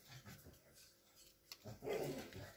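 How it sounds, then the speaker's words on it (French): Several dogs bark and yap in a busy indoor home, the barks fairly close and overlapping in an excited burst that swells toward the end. "les chiens, vous avez à peu près l'habitude, hein, quand même"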